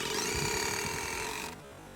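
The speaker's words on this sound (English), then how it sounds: "Instead, I like to use something smaller, like the Milwaukee cordless screw gun." A Milwaukee cordless screw gun whirs close up as it drives a screw in a single continuous burst, then stops abruptly, leaving a quieter background.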